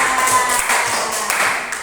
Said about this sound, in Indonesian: Tepuk tangan dong buat Mas Arif